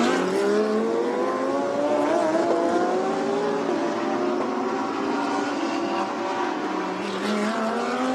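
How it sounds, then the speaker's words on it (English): GT race cars, including the 888 Racing Mercedes, race past at the Yeongam circuit in Korea during a Blancpain GT World Challenge Asia race, with loud, continuous engine roars whose pitch rises and falls as they accelerate. "Here comes the 888 Racing Mercedes."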